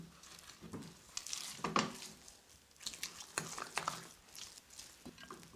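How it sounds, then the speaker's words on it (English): A spoon stirs and scrapes a thick chocolate barfi mixture in a cooking pan, giving quiet, irregular scraping and clinking strokes with soft sizzling between them. "So make sure you stir that all in."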